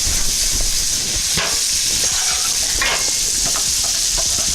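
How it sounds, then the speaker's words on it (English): Leftover spaghetti hitting a hot stovetop pan for garlic herb spaghetti, giving a steady, loud sizzle and hiss with scraping stirring sounds and occasional sharper pops, close and continuous without any talk. "Alright, so I'm going to put the spaghetti in there."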